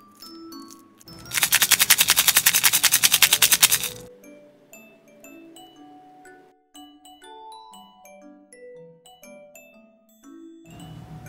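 A handmade resin shaker with a soap theme rattles in a dense, sharp burst of tiny clicks, then its loose pieces tumble and tick sparsely. The rattling returns near the end.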